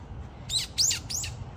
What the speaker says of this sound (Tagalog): Ay, ibon.